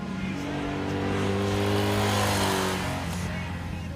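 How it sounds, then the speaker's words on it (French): A 1983 Honda VF 750F with its V4 engine accelerates hard, the pitch climbing smoothly into a high, turbine-like whine that swells to a peak and then eases back slightly, heard from the rider's position with no speech. "à haut régime, le bruit du V4 se change en turbine"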